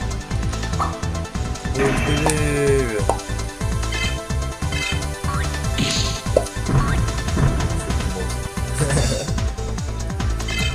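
Digimon video game sound effects of crashing, whacking blows with swooshing tones and a rising shriek, dense and loud throughout, a monster attack with no clear talk.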